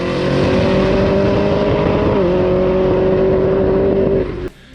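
A Camaro engine with MSD ignition wires and new spark plugs idles loudly and roughly up close, its uneven misfiring rumble holding steady before cutting off abruptly.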